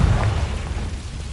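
Confringo blast spell in a Hogwarts wizarding game, a single short, heavy boom that rumbles and fades out within a second, with no talk over it.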